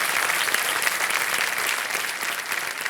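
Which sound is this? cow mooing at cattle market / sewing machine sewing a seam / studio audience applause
studio audience applause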